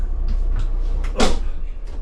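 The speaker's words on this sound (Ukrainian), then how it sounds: "Автоматичне закриття дверей." Automatic doors on a city bus closing at the end of its route, a loud close pneumatic hiss and thud over the steady low engine rumble inside the vehicle, with no talk.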